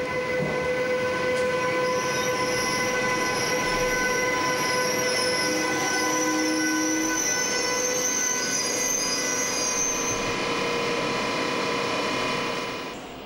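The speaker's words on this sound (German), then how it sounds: "101, 135 kann nun wieder auf Strecke gehen." A DB Class 101 electric locomotive runs with its train, giving a steady, loud rail rumble with sustained electric motor whine and clicking wheel-on-rail mechanics over about thirteen seconds, with no talk.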